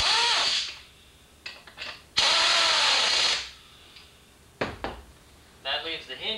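A cordless power tool whirs in two longer bursts and a few short spurts while bolting parts onto a Pontiac Fiero seat, with ratcheting clicks and brief rattles between, and someone talking in the pauses.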